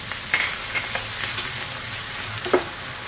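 Browned pork cheek and ear fry with bagoong shrimp paste, a moderate close sizzle punctuated by several short scraping stirs of a spoon against the pan.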